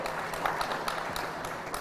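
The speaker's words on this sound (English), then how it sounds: "Please give her a round of applause." Audience applause fills a university hall during a youth and innovation expo, a short burst of dense, steady clapping at moderate level.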